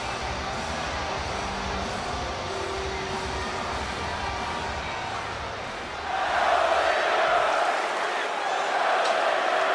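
Sold-out arena crowd at the Vivint Arena in Salt Lake City in a WWE video game, a constant murmuring roar that swells to louder cheering about two-thirds of the way through, with an announcer talking over it early on.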